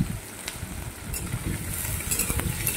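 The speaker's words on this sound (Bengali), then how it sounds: "এবারে চিংড়ি মাছ লাল লাল করে আমি ভেজে নেব" Shrimp fry in a pan after being added to tempered spices, giving a steady, close sizzle with low bubbling crackle and occasional sharper spits throughout.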